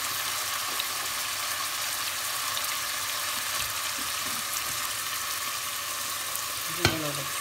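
Chicken sizzles steadily in a frying pan with a constant broadband hiss throughout, and a brief clink of a utensil near the end.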